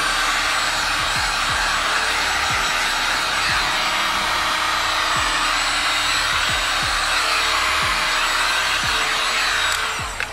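A heat gun blows hot air onto a fog light sticker on a 10th-gen Honda Civic, a loud, steady whooshing roar that runs without a break, close to the mic, with faint clicks and knocks underneath.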